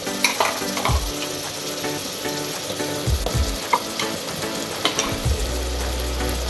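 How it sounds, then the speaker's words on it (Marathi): Onion, tomato and ginger-garlic-chili paste frying in oil for spicy misal, a steady close sizzle broken by scraping stirs of a spoon in the pan. "ही पण छानपैकी अशी फ्राय करून घ्यायची. तेल सुटेल तोपर्यंत."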